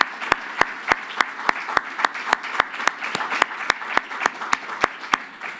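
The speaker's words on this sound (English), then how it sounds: "So please join me in giving a warm applause to our staff." Audience applause at a global health policy research symposium, many hands clapping steadily with a few sharp nearby claps standing out over the dense crowd patter.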